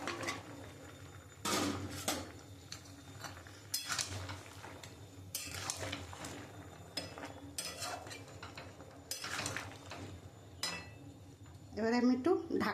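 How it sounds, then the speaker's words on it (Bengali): Metal clatter in a kitchen while a vegetable curry with jackfruit seeds simmers, a series of separate clinks and knocks of a lid and utensils against a pot at moderate distance, with a voice speaking briefly at the end. "আমি এবারে ঢাকা দিয়ে দেবো একটু।"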